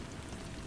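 Steady rain falls in an even, dense hiss of drops without pauses, with no voices.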